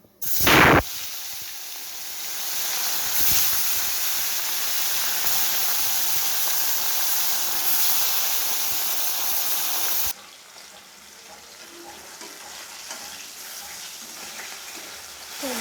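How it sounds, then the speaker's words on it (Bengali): Fesa fish fry in hot oil in a wok with a loud, steady hiss that runs for about ten seconds, then drops abruptly to a much quieter sizzle. "কড়াইতে তেল গরম হয়ে গেছে এবার আমি প্রথমে মাছগুলোকে ভেজে নেবো"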